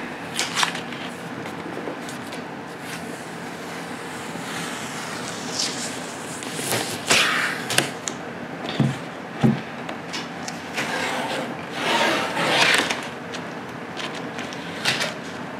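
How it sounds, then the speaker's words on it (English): Packing tape being pulled and peeled off a package in several bursts of ripping and crackling, close up, with rustling handling noise between the pulls. "pulling tape off"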